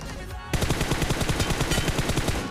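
Rapid automatic gunfire in a battle royale video game, a dense burst of repeated shots starting abruptly after a brief lull and continuing loudly, with no talking.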